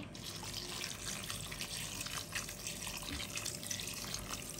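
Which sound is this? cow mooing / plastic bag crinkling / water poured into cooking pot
water poured into cooking pot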